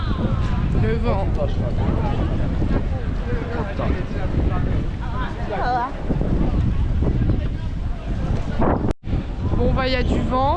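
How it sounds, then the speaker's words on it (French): Strong wind buffets the microphone at an outdoor spot on a first-day trip to Prague, a loud, continuous rumble with gusts, while people talk over it throughout. "Beaucoup de vent."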